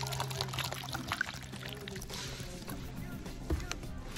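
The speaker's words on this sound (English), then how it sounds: "And then you're going to pour the water over the cornstarch." Water from a cup is poured over two cups of cornstarch to make oobleck, a steady, soft splashing pour close by against low room noise, with a small knock partway through.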